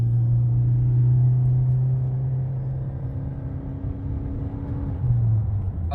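A 2020 Toyota Corolla Hybrid sedan accelerates with a low, steady engine drone that holds for several seconds, dips slightly, then swells again near the end, heard from inside the car without talk.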